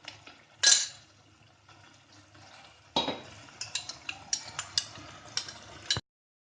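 A utensil stirs poppy seed gravy in a pan on a gas flame, with soft, irregular scraping and clinking taps, faint at first and then more frequent near the end.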